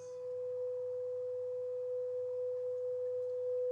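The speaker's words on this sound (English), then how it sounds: "That's a pretty good sine wave." A steady, pure sine tone from a restored Grundig Type 90U tube radio holds unbroken at one pitch over a faint hiss of radio static, clean and sustained with no voices.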